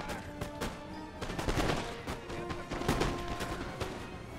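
Musket volleys in the Napoleon: Total War battle game, a dense run of overlapping gunshots, cracking repeatedly and irregularly at near and middle distance through the whole stretch, with no voices.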